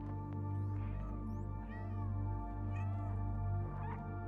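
A cat meowing in a video game, several short meows spread across a few seconds over steady background game music.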